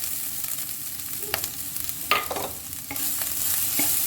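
Grated coconut sautés in a pan with a soft, steady sizzle. A few sharp scrapes and taps from a spatula break in along the way, and no one speaks.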